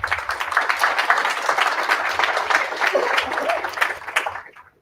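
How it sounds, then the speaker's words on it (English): Audience applause at a Python meetup talk evening: a steady, dense wash of many hands clapping through the room, sustained and fairly loud before tapering off to silence at the end. "And let's have some applause."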